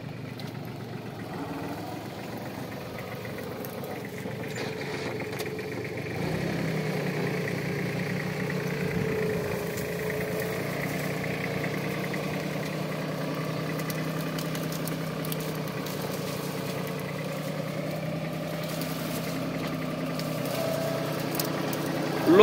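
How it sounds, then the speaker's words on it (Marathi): A New Holland Simba 30 HP tractor pulls a four-and-a-half-foot rotavator through a field in low second gear, its engine a steady mid-pitched drone that grows a little louder partway through, with no talk heard. "लो दुसऱ्या गिअर मध्ये चालवायला लागतंय ट्रॅक्टर सिम्बा"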